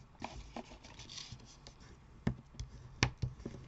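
Card stock being folded in half by hand, with soft rubbing and creasing under the fingers and several sharp taps and snaps as the fold is pressed down, close and quiet with no talk.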